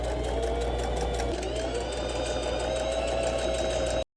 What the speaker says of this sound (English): I'm going to top stitch all the way around the neck hole as well as down the middle portion